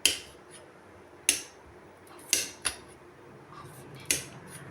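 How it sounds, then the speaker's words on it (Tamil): Green chilies are chopped into small pieces with a knife, producing a handful of sharp, isolated clicks against the board, spaced unevenly and heard up close without talk. "பாருங்க, மிளகா கட் பண்ணி வச்சாச்சு"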